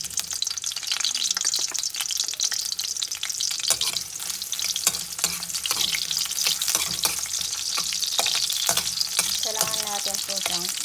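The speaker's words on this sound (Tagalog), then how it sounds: "Let's put oil. Okay. Let's put the onion." Onion fries in oil for beef steak, a loud, steady crackling sizzle throughout with intermittent stirring scrapes and a brief splash of running water near the end.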